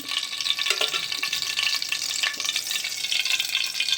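Steady crackling sizzle of mustard seeds frying in hot oil, dense and continuous, close by with no talking.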